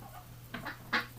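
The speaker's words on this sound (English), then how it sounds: "They're watching me and quacking like crazy here." Ducks quacking excitedly at bath time in winter, a few nasal honking calls close by over a steady low hum.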